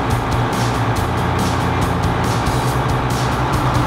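A 1981 Case 2390 tractor with 160 horsepower, its diesel engine idling nearby with a loud steady low rumble and a faint rhythmic pulsing on top.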